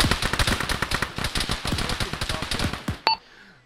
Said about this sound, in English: you're being shot at from the northeast